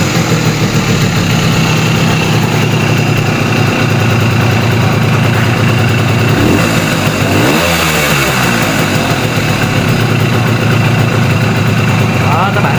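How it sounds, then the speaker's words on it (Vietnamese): A Simson S51 motorcycle engine runs loudly and steadily at idle throughout, close up, with a brief change in pitch partway through as if the throttle is blipped. "giờ mình nổ máy cho bạn"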